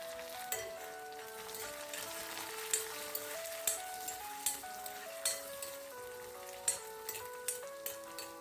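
Chopped garlic and dried red chillies sizzle steadily in hot oil in a pan for a simple dal curry, a soft even frying hiss with scattered sharp crackles and pops, no voices.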